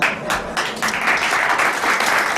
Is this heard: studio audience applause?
yes